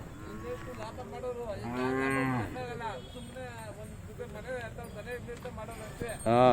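A bull at the Magadi cattle fair gives several loud, drawn-out moos, the strongest near the middle, with other livestock calls and crowd voices mixed in around them.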